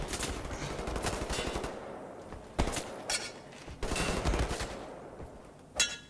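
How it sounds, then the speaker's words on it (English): Bursts of automatic gunfire and single shots from enemy soldiers in the shooter game Wolfenstein: The New Order, loud and close, with rapid rattling volleys separated by short pauses and a sharp final shot. "Who just shot at me?"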